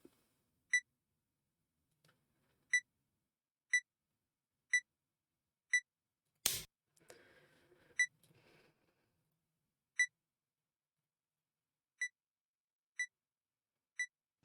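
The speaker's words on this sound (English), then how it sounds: "I lowered the beeping because I assume it's quite loud." Short electronic beeps on a livestream sound at regular intervals, quiet and isolated against silence, with one sharp click and a brief rustle midway.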